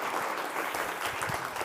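Short burst of audience applause for a speaker at a conference stage in Bogotá, soft and somewhat distant clapping lasting under two seconds.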